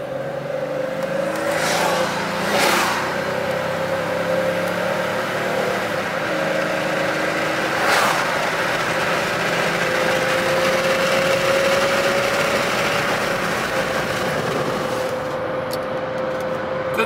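A 2000 Chevrolet Impala sport sedan hums steadily through open windows, a constant engine drone with a faint tonal whine and a few brief bumps, close and unbroken with no talk.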